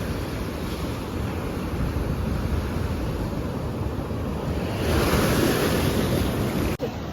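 Monsoon sea waves crash and wash steadily on a fishing shore, a loud continuous roar with buffeting wind noise that swells toward the end, with no voices.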